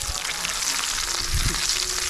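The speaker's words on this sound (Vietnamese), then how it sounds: "Chiên nó vàng nha anh em." Fish bones fry golden in hot oil, a loud, steady close sizzle with crackling pops throughout, no talking.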